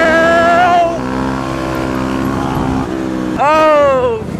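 A motorcycle engine revs hard and loud through gear changes, pitch climbing, dropping back to a steady drone, then surging up again near the end, with a rider's voice talking over it.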